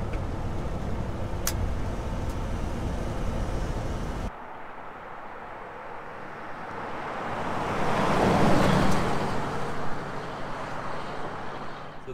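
A 1971 Ford F100 pickup cruising at around 35 mph, giving a steady rumbling engine and road drone with strong wind noise buffeting the microphone, which swells partway through.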